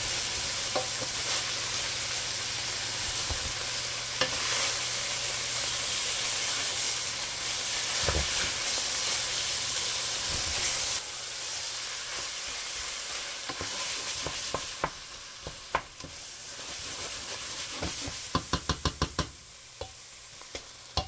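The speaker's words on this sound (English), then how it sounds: "Give it a good mix." Tomato meat sauce sizzles loudly and steadily in a pan as it is stirred, a constant close hiss broken by scraping spoon strokes and clinks that become sharper near the end.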